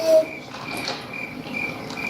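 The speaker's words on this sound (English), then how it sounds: "You heard the crickets." Crickets chirp in repeated short bursts, a thin, steady, moderately faint trill played as a sound effect with no voices over it.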